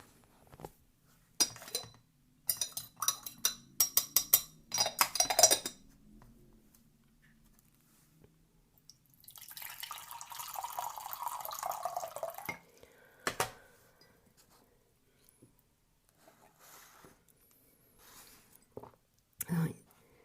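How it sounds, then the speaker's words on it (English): Green tea is poured into cups, with a run of close clinks and clatters, then a soft steady stream of liquid, followed by a few isolated taps in a quiet room. "I think this might be time to pour some green tea."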